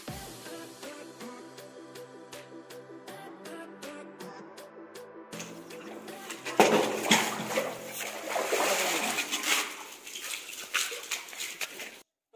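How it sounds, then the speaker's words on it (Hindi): Water pours and splashes into a container being filled for washing clothes with a bar of Surf Excel soap, starting softly and growing into a loud, continuous gushing that lasts several seconds, over a background of music. "लाओ तो पानी भरो, रमेश पानी भरो।"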